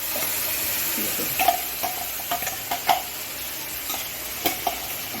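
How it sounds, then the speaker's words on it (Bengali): Spice paste frying in a pan for beans paneer, a steady sizzle and hiss with the scrape of a spoon stirring at irregular intervals, close up and with no talking over it. "এর মধ্যে একটু কষে নেব যতক্ষণ না এটার কাঁচা গন্ধ সব মরে যাচ্ছে"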